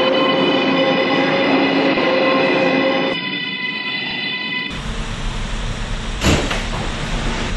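Steady tonal hum of a New York City F local subway car, then a clunk as the folding doors close, followed by rumbling running noise with a brief knock.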